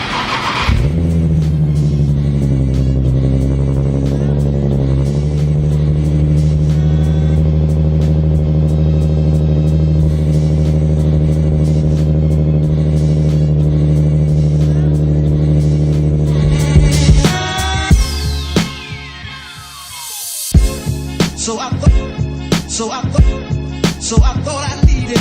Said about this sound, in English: So we'll start you off with a cold start.